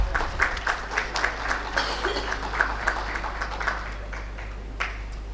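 Audience applause at an Urban Infra 2024 conference on railway innovations, with steady, moderately loud clapping from a sizeable crowd that carries on throughout and fades slightly toward the end.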